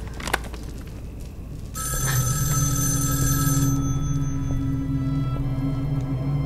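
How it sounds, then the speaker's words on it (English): A telephone rings in an interactive film game, a sustained electronic ringing tone that starts after a quiet moment and holds loud and steady to the end. "The phone rings."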